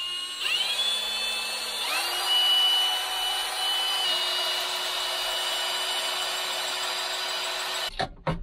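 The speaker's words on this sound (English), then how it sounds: "I'm going to drill a couple of holes, or four holes" Power drill boring a few holes while fitting an auto-steer unit on a Bateman sprayer: a steady motor whine that rises in pitch as it speeds up, runs continuously and close, then cuts off with a few clunks at the end.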